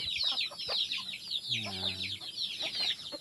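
Chickens clucking on a rural province farm, a steady faint stream of bird calls with a short lower cluck in the middle, under a brief spoken word.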